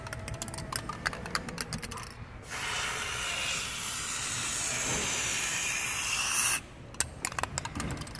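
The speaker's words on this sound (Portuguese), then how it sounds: "Aí agora a gente vai passar os grafite spray nele." Graphite spray lubricant being sprayed into a car door's window glass channel, a continuous loud hissing jet of about four seconds, framed by clicking and rattling handling noises before and after.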